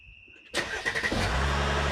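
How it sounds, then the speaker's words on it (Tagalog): A car engine starts abruptly after a quiet, steady tone, then idles and revs at close range with a rough mid-range rumble, the vehicle arriving to take a family to the airport in California. "sasakyan na susunduin kami sa airport"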